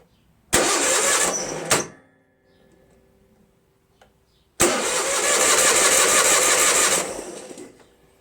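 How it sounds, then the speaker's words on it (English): Onan 16HP opposed-twin engine on a Toro Wheel Horse 616Z zero-turn mower cranks over twice with the starter, a short burst of chugging and then a longer steady crank of about two seconds, close and loud, without catching. "Engine cranks, and it feels good compression too."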